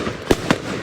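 Fireworks being lit go off in two sharp, close bangs about a fifth of a second apart, over a soft outdoor background with no talking.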